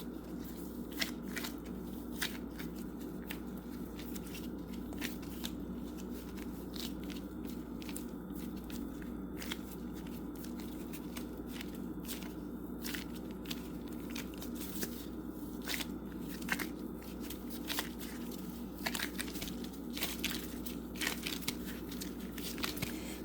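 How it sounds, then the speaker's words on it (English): Lemon tart pastry dough is pressed and folded by hand, giving a continuous run of soft crinkly, squishy crackles with scattered sharper ticks, close and steady with no talking. "I'm just going to press it and fold it together."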